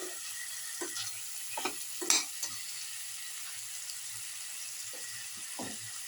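A garlic basil chicken rice casserole mixture sizzles softly in a frying pan under a steady hiss, with a handful of light scraping stirs scattered throughout.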